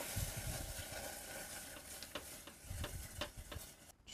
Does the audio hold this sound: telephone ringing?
no